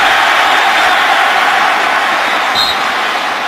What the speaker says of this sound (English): This crowd starting to get into it